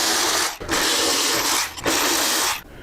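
Power tool loosening bolts on a motorcycle rear fender, a loud close whirring buzz in two long bursts separated by brief pauses, ending abruptly.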